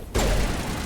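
A short, sharp pistol-like blast in the Mass Effect 1 video game, a single loud report followed by a brief ringing tail.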